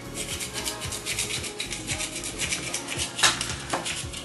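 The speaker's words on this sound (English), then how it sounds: "It is time for me to grate my nutmeg." A whole nutmeg scrapes against a grater for a pumpkin pie, rhythmic rasping strokes repeating at an even pace, close and fairly quiet.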